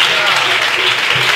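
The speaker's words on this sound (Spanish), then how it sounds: "Dale un fuerte aplauso" A church congregation claps in a strong, continuous round of applause during a Spanish-language worship service, loud and close, with a voice speaking over it.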